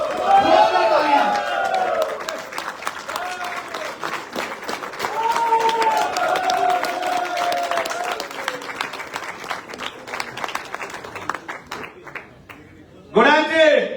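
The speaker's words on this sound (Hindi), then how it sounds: "एक बार जोरदार तालियों के साथ मिस्टर अजय मान जी के लिए जोरदार तालियां।" Loud, sustained audience applause fills a business event hall for a network marketing company, with speech and music-like tones layered over the clapping before a brief pause and a renewed burst near the end.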